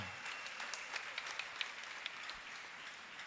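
A church congregation at a thanksgiving gathering breaks into sustained applause, a dense steady patter of many hands clapping together at moderate distance, with no voices standing out above it.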